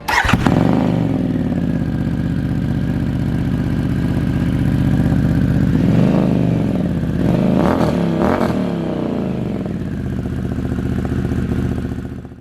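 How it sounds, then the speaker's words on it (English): A 2022 Harley-Davidson Pan America 1250 Special fitted with a SuperTrapp exhaust idles loudly and close, with a couple of throttle blips rising and falling partway through before the engine cuts off. "we already put a super trap exhaust on this bike"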